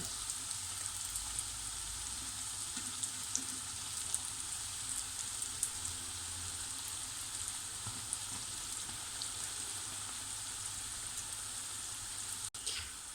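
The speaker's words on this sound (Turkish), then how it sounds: "Geri da hepsini bu şekilde kızartacağım." Pişi dough frying in hot oil, a steady, even sizzle with soft crackling pops running continuously throughout, fairly close and at a moderate level, with no voices.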